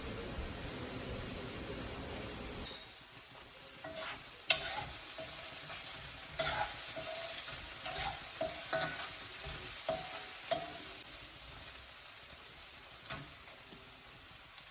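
Onions fry in a pan for a soya chunks curry, a soft steady sizzle with occasional light stirring scrapes and clicks, fairly quiet and with no voices.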